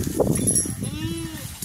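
A Beetal goat on a farm gives a short, close bleat over a busy background of voices and farmyard noise, with a thin tone trailing near the end.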